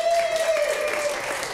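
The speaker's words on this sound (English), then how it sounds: "give a big round of applause to Nate, Sarah, and Erica." Audience applause at a live improv comedy show, a brief burst of clapping from a crowd that stays fairly steady and fades slightly toward the end.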